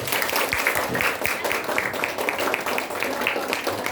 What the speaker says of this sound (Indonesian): Biasa, kasih tepuk tangan dulu ah.